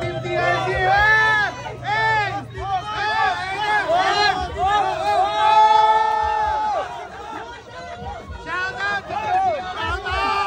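A boisterous crowd at a Cavite motor show yells and cheers for Team TRC, with overlapping shouts and chatter rising and falling in waves, loud and close throughout.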